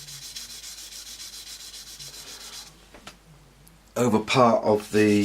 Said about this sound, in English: all I've got is a sand and sponge, and all I'm doing is going over